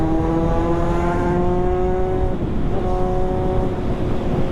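A Kawasaki Z800 motorcycle on a ride, its loud engine holding a steady, close, droning roar with slight shifts in pitch and no one talking.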